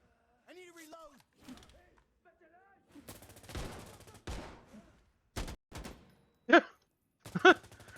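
Gunfire in the video game Insurgency Sandstorm: sharp single shots and a short burst cut through the mix after several seconds, with quieter game sounds and a voice talking earlier in the clip.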